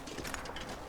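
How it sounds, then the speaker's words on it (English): A bird trapped inside a chimney gives a faint, brief pigeon-like coo that is heard once and sounds distant and muffled. "turns out there was a bird that was stuck in the chimney"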